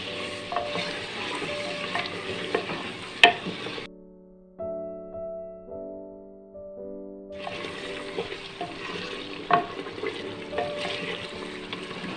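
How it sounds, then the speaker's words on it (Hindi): Spice masala frying in a pot for chicken nihari, soft sizzling and stirring that drop away midway, leaving quiet tonal hum before the frying noise returns; no speech. "इसको हमने इसमें थोड़ा सा भूनना है मसालों को"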